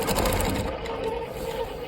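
A longarm quilting machine stitches a Stars & Wishbones quilt, giving a steady, close whirring motor hum with fast rhythmic needle ticking that slows slightly partway through.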